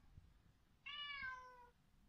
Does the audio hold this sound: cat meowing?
yes